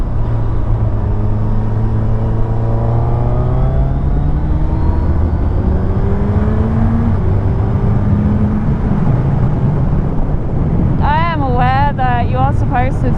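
A Suzuki Hayabusa motorcycle rides on the motorway, its engine droning and shifting pitch as it accelerates through the gears, heavily buffeted by wind noise at the microphone, with a brief burst of voice near the end.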